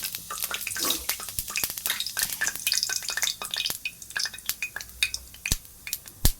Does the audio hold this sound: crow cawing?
no